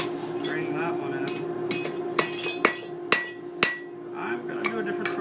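Hammer blows on hot iron at a forge during forge welding, five or six sharp ringing strikes spaced about half a second apart, close and loud over a steady roaring hum from the fire.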